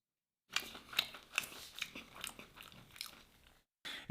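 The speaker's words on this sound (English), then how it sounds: "I hope the crunch is reaching you." Crunchy fried fish and shrimp with spiced red rice are bitten and chewed close to the mic, producing a string of sharp, crisp crunches in irregular bursts, then a short pause before another crunch, with no talking.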